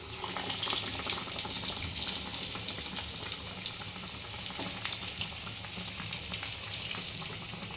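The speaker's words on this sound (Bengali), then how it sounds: "লোহার কড়াইয়ে ছাকাছাকি খুব ভালো হয়।" Capsicum chops deep fry in an iron wok, a steady bubbling sizzle with crackles and spatters throughout, fairly close, no voices.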